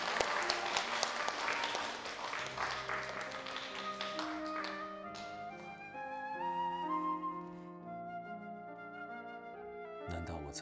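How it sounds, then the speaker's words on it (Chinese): An audience at a contest claps in a burst of applause that gradually gives way to swelling background music. "让我们再次把掌声送给吕小姐。"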